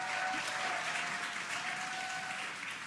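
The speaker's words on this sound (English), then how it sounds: "You can hear the crowd here." A crowd gathered to watch the SpaceX Crew-9 Dragon capsule's splashdown broadcast makes a continuous wash of applause and cheering at moderate volume throughout, with a faint steady tone underneath.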